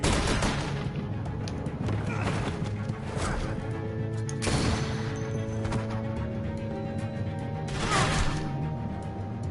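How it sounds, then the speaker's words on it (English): Dense, continuous gunfire with sharp cracks and bursts over a rumbling battle din in the video game The Walking Dead: A New Frontier, layered like a game soundtrack with no clear voices. "I hear gunfire."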